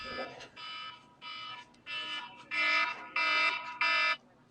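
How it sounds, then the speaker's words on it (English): A cell phone alarm beeps in a repeating pattern of tonal pulses that grows louder with each burst, heard near at a 14u youth baseball game. "That was the alarm."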